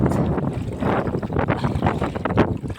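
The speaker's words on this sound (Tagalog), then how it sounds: "medyo malakas po ang hangin" Strong wind buffets the microphone in heavy gusts, with a low rumble and what sounds like water and fishing boat noise underneath, out on the water while hauling a fishing net.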